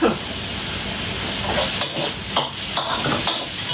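Pork stir-fried with soy sauce in a pan, a steady close sizzle and hiss with occasional scraping stirs of the spatula.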